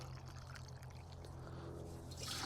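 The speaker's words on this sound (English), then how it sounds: "Pour my weed killer in." Weed killer is poured into water in a garden sprayer tank, giving a steady, faint liquid pour and trickle that runs unbroken throughout and swells slightly toward the end.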